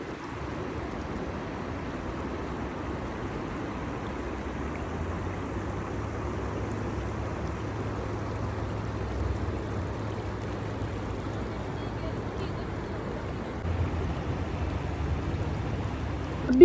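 A boat out on the water in Swat, with a continuous wash of water and wind and a low motor drone that steadies through the middle, with no talking.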